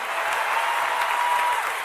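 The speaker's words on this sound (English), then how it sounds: "Can somebody give Jesus a round of applause this morning?" A church congregation claps for Jesus during a Sunday morning service, a steady wash of applause throughout without a break, with no voices standing out above it.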